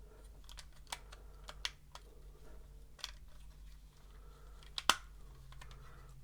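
A plastic panel on an X-Transbots Trailbreaker Transformers toy being folded down, a few faint, sharp clicks and snaps spread over quiet handling noise, close up.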